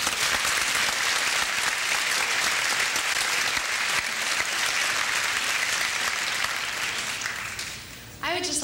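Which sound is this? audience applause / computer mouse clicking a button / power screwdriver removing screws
audience applause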